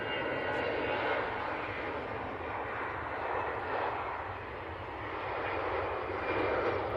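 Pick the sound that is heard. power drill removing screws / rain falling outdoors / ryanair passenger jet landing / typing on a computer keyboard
ryanair passenger jet landing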